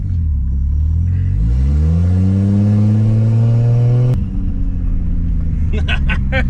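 Turbocharged Lexus IS300 with a TH400 transmission pulling hard while driving, engine rising steadily in pitch through a long rev, then dropping sharply at a shift, loud and close inside the car.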